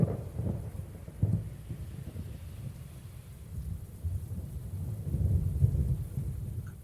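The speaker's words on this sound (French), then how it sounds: "Un orage éclate." Low rumbling thunder rolls on and off beneath a steady wash of heavy rain, with no voices.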